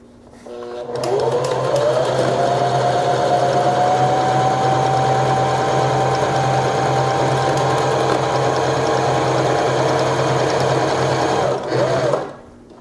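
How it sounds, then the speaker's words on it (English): Janome HD-series sewing machine stitching a dense, narrow buttonhole, a loud steady motor whine with rapid needle clatter that starts up, runs evenly for about eleven seconds, then winds down and stops. "we're going to make the stitching a little bit denser by shifting it from a 1 closer to 1/2 1"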